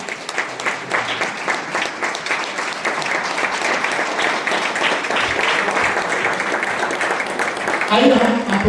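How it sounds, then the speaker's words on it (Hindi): Sustained applause from a congregation at a Christian wedding ceremony in Ambikapur, right after the couple is pronounced husband and wife, loud and continuous throughout with a voice rising briefly near the end. "अपने सामने खड़े होकर तालियों को बजा सकते हैं।"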